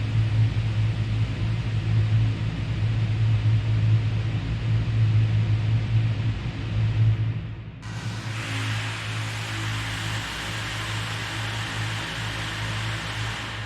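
A bass synth drone with Ableton reverb freeze and drive hums as a sustained noisy wash with a steady low tone underneath; partway through it abruptly shifts to a brighter, hissier texture and then holds steady.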